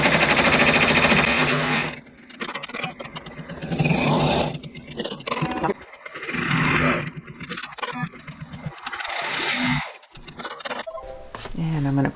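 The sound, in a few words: embroidery machine stitching a tack-down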